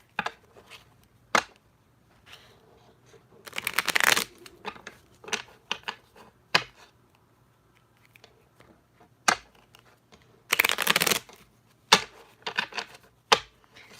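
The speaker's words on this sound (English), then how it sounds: "I'm shuffling again and I heard 3, so we're going to shuffle 3 times." Sharp card clicks and taps at irregular intervals, with two longer riffling shuffles in bursts, no voices.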